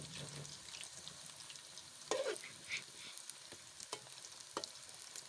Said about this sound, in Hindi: अच्छी तरह से इनको पकने देंगे